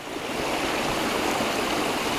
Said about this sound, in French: Tout au fond, devant moi, on voit la cascade principale.